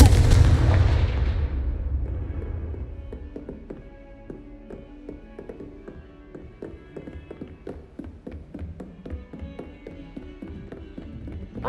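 A Confringo blasting spell in Hogwarts Legacy sets off a loud booming explosion that rumbles and fades over about two seconds. Scattered light taps and clicks from the game follow.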